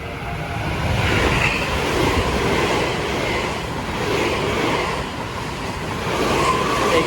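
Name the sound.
train passing by on railway in Japan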